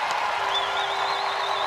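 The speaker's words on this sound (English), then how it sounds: "and applause from Alison Annan" A crowd applauds after a goal at a women's field hockey World Cup match between the Netherlands and Italy, a steady, dense wash of clapping and cheering that holds at an even level throughout, with no pause.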